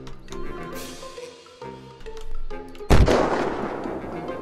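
Sniper gunfire in the Unturned video game, a loud sharp crack near the end that rings out in a long reverberant tail over a steady game background hum.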